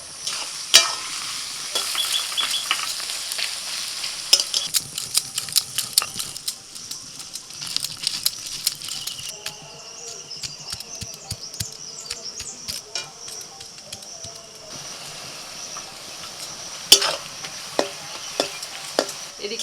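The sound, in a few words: onions frying in white oil in a kadai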